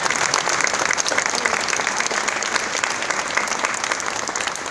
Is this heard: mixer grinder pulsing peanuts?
no